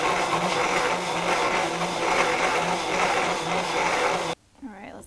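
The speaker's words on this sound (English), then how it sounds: "And then we blend." A countertop blender whirs at high speed for about four seconds, churning coconut milk with shredded coconut in a loud steady grinding drone, then cuts off abruptly, leaving a brief faint rustle.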